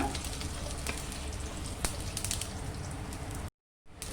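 Oil sizzles steadily in a pan while mint chutney is being made, a continuous close crackle with small pops, cutting out briefly near the end before resuming.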